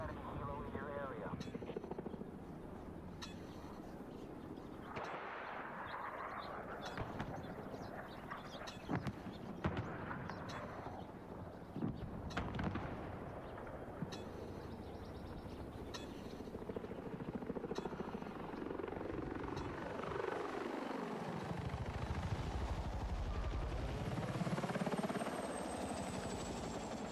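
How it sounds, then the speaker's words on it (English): An enemy helicopter in a military video game passes nearby, its rotor roar swelling and sweeping in pitch as it flies close, steady and loud throughout with a radio voice and battle noise mixed in. "Eyes on an enemy helo in your area."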